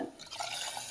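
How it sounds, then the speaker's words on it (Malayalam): Water pours into a pan in a brief, continuous splashing trickle that stays fairly even throughout. "വെള്ളം ഒഴിക്കും"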